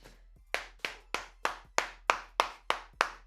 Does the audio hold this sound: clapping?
yes